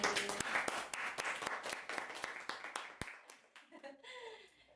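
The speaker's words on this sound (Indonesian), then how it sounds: "Tepuk tangan dulu untuk Dimensi." Studio audience applause at the close of a debut podcast episode, a dense run of sharp claps lasting several seconds before thinning out as a voice starts speaking near the end.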